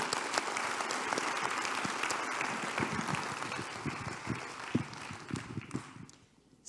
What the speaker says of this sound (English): maybe I invite everybody to give a round of applause for Dr.